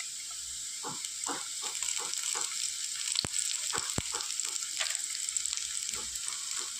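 Vegetables and a teaspoon of ginger sizzle steadily in a hot pan, a continuous frying hiss with occasional spoon scrapes and clinks, close and moderately loud with no voices.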